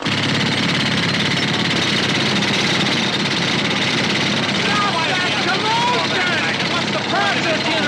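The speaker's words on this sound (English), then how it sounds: "along came this jackhammer operator. Start using it right here." A jackhammer breaking up pavement right outside a store hammers on as a steady, dense roar through the whole stretch, with a few faint voices and chirps surfacing near the end.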